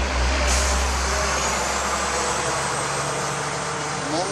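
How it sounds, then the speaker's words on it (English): A truck passes by outdoors, a loud steady low engine rumble that fills the whole stretch with a faint hiss of air brakes near the start, while a voice speaks briefly under it. "There's a truck going by."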